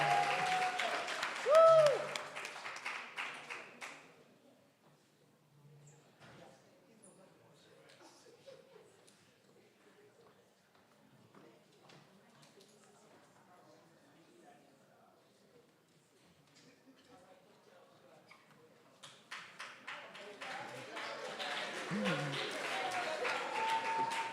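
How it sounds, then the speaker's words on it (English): A conference audience at a 40th anniversary reunion convention applauds a speaker coming on stage, loud clapping at the start fading into murmur and quiet, then swelling again into sustained applause near the end. "I'm going to ask Dr. Sherry Bevel to come up here to a big round of applause"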